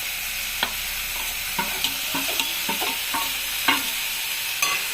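Spices tipped into hot oil for a watermelon-rind, lentil-fritter and potato ghonto, a constant bright sizzle with scattered scraping stirs and clicks of the spoon against the pan, close and loud.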